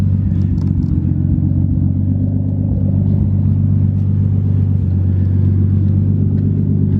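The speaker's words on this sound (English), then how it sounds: "You guys hear this little misfire?" A Nissan S14 fitted with an RB engine idles steadily with a loud, continuous low rumble, a slight misfire causing faint irregular stumbles in the beat, heard up close with no talking.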